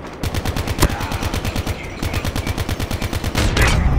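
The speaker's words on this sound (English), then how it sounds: "Every time I shoot somebody, it don't shoot like that." Loud rapid automatic gunfire in Call of Duty Mobile, a fast even rhythm of close shots running almost without a break, with a short pause partway through before the firing resumes.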